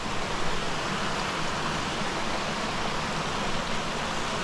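A small stream spilling over a little waterfall beside a riverside campsite, heard as a steady, close, full-band rush of water that stays even throughout with no voices.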